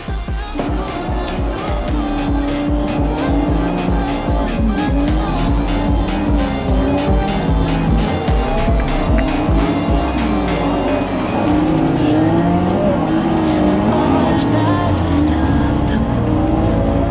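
Drift cars on a street course during a qualification run, engines revving hard with repeated rising and falling pitch and tire squeal, loud and continuous throughout without speech.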